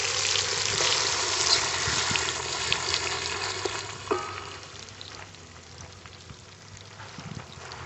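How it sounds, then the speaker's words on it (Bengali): Marinated young goat mutton hits a hot pan for kosha, giving a steady, close sizzle and crackle with a brief clatter partway through before the frying settles into a softer hiss. "এবারে আগের থেকে ম্যারিনেট করা মাংসটা দিয়ে দিচ্ছি।"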